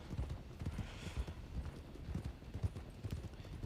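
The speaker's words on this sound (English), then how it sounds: "Your horse is just, it is going pretty fast though, in terms of canter" Horse hooves canter in a quick, rolling clip-clop rhythm on the ground in the RedM video game, steady and moderately faint with no voices over them.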